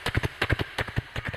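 A horse's hooves clip-clop in a quick, even galloping rhythm, several sharp close hoofbeats in a short burst at moderate volume.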